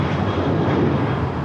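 An airliner taking off from runway 25 left at Los Angeles International Airport, a loud, broad, steady engine roar filling the whole moment.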